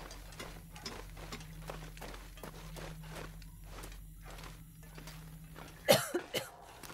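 A video game character coughs, a short burst of harsh cough-like sounds near the end after a long stretch of soft, rhythmic ticking and a low hum.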